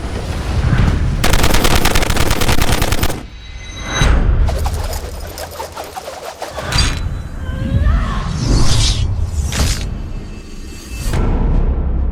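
Layered trailer sound design for a Hollywood action film: loud, punchy gunshot bursts and rapid volleys, heavy booms and whooshing hits arriving in waves, with brief gaps between dense, cinematic clusters of gunfire.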